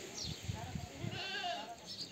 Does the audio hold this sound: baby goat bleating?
yes